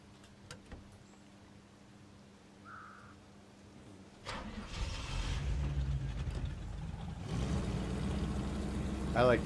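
A scout truck engine in Snowrunner cranks and catches, then settles into a steady low idle that swells louder toward the end, with someone talking briefly earlier.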